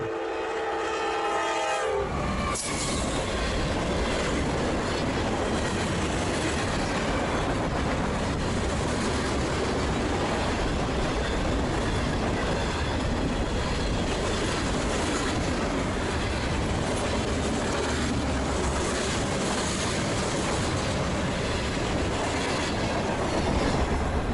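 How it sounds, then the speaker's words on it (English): A Norfolk Southern freight train hauled by an AC44C6M diesel locomotive rumbles past steadily and loudly on the Lehigh Line, with continuous wheel and engine noise and a horn sounding briefly at the start. "another AC-44C6M pulls a freight train on its own"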